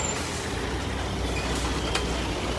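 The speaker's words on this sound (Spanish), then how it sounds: "Ay, no puedo creer lo cerquitas que me pasó el carro" A vehicle rushes past very close on a busy road in La Huacana, a steady loud roadside rumble with no break, with a faint brief beep near the end.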